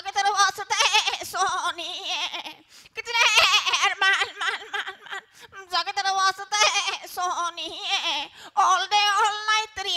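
A comedy stage performer in Bongaigaon imitates a goat kid bleating as if singing, with long wavering, quavering bleats in several phrases separated by short pauses, loud and close.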